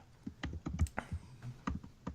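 Rapid clicking of keys on a computer keyboard, irregular bursts of keystrokes close to the microphone with no voices over them.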